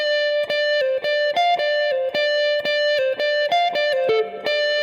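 Overdriven electric guitar plays a minor pentatonic blues lick from a solo, a steady run of clear picked and legato notes at high fretboard positions, sustained and distorted with no talking.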